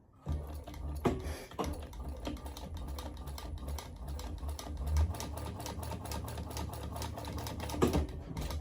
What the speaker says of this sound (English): top stitch that seam open